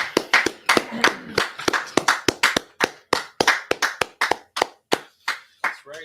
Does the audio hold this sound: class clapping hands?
yes